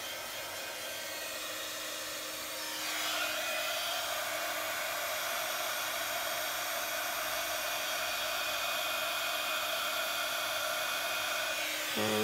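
A heat tool starts up about three seconds in and then blows with a loud, steady whooshing roar while warming a piece for a Christmas treat box.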